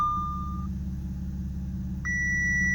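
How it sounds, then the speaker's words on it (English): A 2010 Audi S4 6-speed gives its door-open alert on startup: a sustained electronic tone cuts off, then after a pause a higher chime begins, both over the low steady idle of the engine. "So when you start the car, you will see the doors open and you will get the alert."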